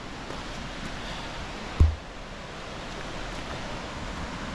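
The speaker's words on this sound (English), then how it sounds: "All right, there's a big waterfall there." A big waterfall at Twin Falls in the Pennsylvania backwoods gives off a steady broadband rush of falling water, with one brief low thump partway through.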